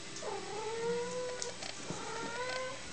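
Young kittens, about six weeks old, meowing after bedtime, several overlapping rising and falling cries, close and steady with no talk.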